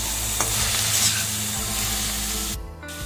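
Vegetables with carrot and capsicum stir-fry in a pan, making a close, continuous sizzle with stirring scrapes that cuts off abruptly near the end, and no one speaks.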